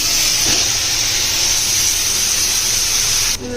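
Dry fish fritters wrapped in gourd leaves frying in hot oil in a wok, a loud, steady, close hissing sizzle that cuts off abruptly at the end.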